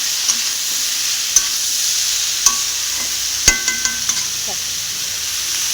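Spice mix and taro stolons being stirred in a frying pan give a steady close sizzle, punctuated by a few sharp clinks and scrapes of a spatula against the pan.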